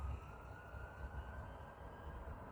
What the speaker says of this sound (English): I'll let this fire truck pass, or ambulance